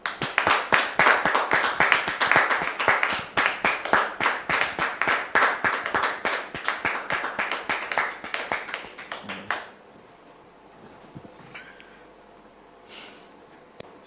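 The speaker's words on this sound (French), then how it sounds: "Merci de le recevoir sous vos applaudissements" A studio audience on a TV talk show claps rhythmically in unison, loud and sustained for about nine seconds before cutting off, leaving quiet room tone with a few faint sounds.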